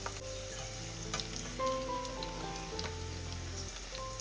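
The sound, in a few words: idli pieces frying in oil, scooped out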